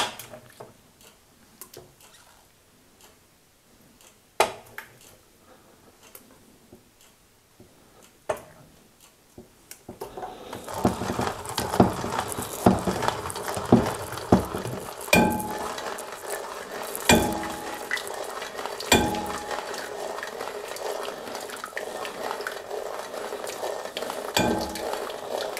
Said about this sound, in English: we'll show what it looks like going through the French mill